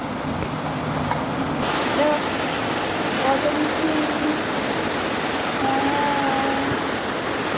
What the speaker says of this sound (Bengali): বৃষ্টি নামিয়ে দিল ঝমঝম ঝমঝম করে